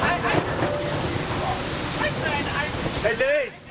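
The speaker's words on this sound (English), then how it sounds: "I'm checking out these waves." Lake waves washing against a 52-foot Beneteau sailboat under way on Lake Erie, a steady broadband wash of water and wind noise throughout, with people talking over it near the end.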